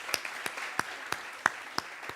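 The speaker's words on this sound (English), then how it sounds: "Let's clap for all of them then." Audience clapping at a Kwazulu-Natal G20 community engagement town hall, a sparse handful of distinct claps, about eight, spaced irregularly and fairly faint, with no continuous applause bed.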